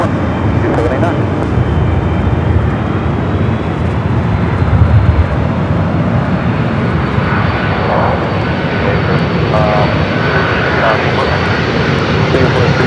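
A Singapore Airlines Airbus jet on approach to runway 4 right at Los Angeles International Airport, its engines giving a sustained, steady roar heard loud and continuous throughout, with faint radio chatter in the background.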